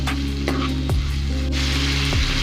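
Chili powder, coriander powder and garam masala frying in hot oil, giving a steady close sizzle with a few light stirring scrapes and a low hum underneath.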